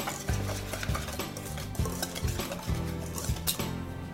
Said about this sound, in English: Now I'm going to just mix up these dry ingredients.